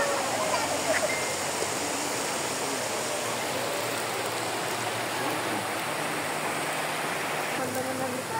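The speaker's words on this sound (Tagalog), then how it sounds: "Ito yung papasok ng falls." Waterfall at Sta. Maria, Laguna, a steady broadband rush of falling water heard close and constant, with faint talk in the background.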